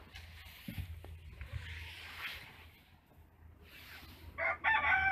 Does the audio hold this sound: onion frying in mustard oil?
no